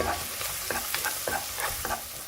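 Chopped garlic fries in oil over low heat for a lemon and dates pickle, a soft steady sizzle punctuated by several quick stirring scrapes of a spoon against the pan.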